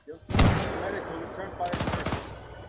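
Gunfire in the military video game ARMA 3, short bursts of automatic weapon fire with a loud burst near the start and a quicker rattling burst later, mixed with battlefield noise.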